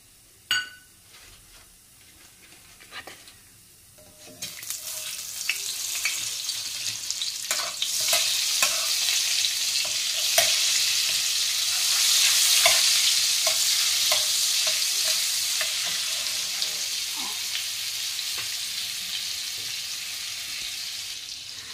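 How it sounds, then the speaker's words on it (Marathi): Oil and Amul butter sizzle in a heated kadai, the hiss swelling a few seconds in and holding steady and fairly loud, with occasional clinks of a utensil against the pan. "कढई नीट तापल्यावर त्याच्यामध्ये आपल्याला तेल आणि थोडंसं बटर टाकायचं आहे"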